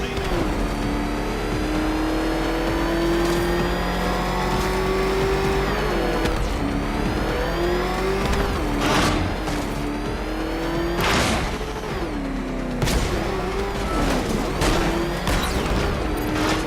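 The Batmobile's engine revs in Batman: Arkham Knight, a loud, steady motor tone that rises and shifts in pitch through gear changes, with bursts of roaring acceleration and clattering impacts layered over it.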